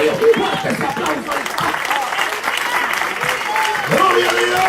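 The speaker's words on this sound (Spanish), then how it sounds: "Fuerte ese aplauso." A church congregation claps loudly and continuously, dense applause filling the room, with voices cheering and shouting over it.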